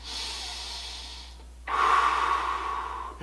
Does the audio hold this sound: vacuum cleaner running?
no